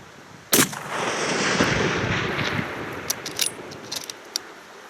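A rifle fires one sharp, loud long-range shot during a hunt in New Zealand, followed by a rolling echo that fades over a few seconds, with faint clicks afterward.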